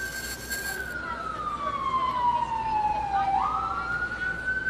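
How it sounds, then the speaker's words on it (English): An ambulance siren passes during a news broadcast from West Chester, a single loud wailing tone that sweeps steadily downward as the vehicle goes by, then jumps back up near the end, with traffic rumble beneath. "I'm going to let the ambulance pass."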